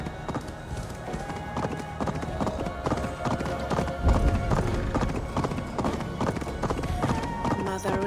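Hooves clip-clop steadily at a walking rhythm in the video game Assassin's Creed Valhalla, with a short neigh amid the footfalls and a voice speaking over them.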